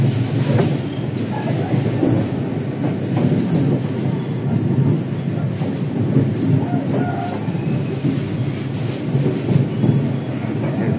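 A train rumbles heavily close by, with wheels clacking and occasional faint squeals as it pulls slowly into Kutoarjo station in Indonesia.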